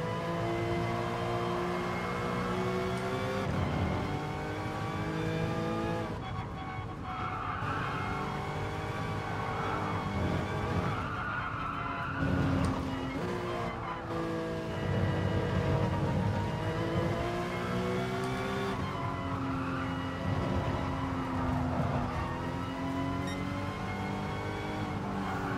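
A Porsche race car engine in the Gran Turismo Sport video game, a steady, loud, continuous drone rising and falling in pitch through gear changes, with transmission whine layered over it and no voices.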